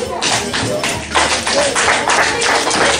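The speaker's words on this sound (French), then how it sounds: "Applaudissez pour vous." Crowd at a Yemba language community event in Canada clapping together, a dense continuous wash of hand claps lasting the whole stretch, fairly loud and close, with a voice faintly underneath.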